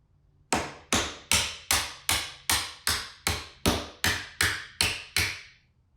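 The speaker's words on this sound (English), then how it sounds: "if I take a hammer and a punch right here, and I simply put that in there" Eleven evenly spaced, ringing metallic strikes of a hammer on a punch, driving a hinge pin out of an exterior door, each hit sharp and close with a brief decay, with no talking.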